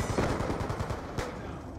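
Rapid bursts of FAL rifle fire in Black Ops 2 crackle in quick succession for about a second, followed by one sharper single shot, moderately loud against game ambience.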